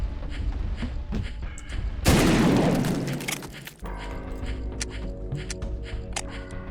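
Shotgun blast in a shooter game, one loud burst of gunfire with a rolling boom standing out over steady game ambience, with scattered clicks and effects before and after.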